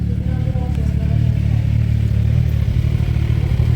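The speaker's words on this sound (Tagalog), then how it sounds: "So guys, ito yung motor ni Daddy Frankie" Kawasaki Ninja motorcycle engine idling close by, a steady low rumble with faint clatter throughout, with no change in pace.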